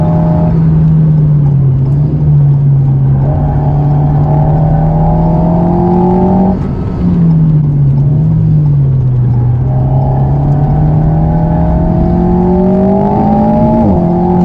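An Alpine A110 S accelerates on a race track, its engine droning loud and close with rising and falling pitch through gear changes, the note dipping briefly midway before climbing again.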